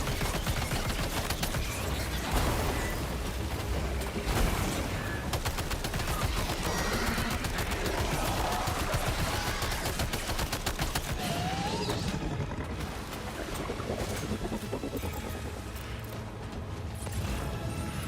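Sustained machine gun fire in Death Stranding 2, rapid dense bursts running almost continuously at steady loudness, with a few brief lulls between volleys.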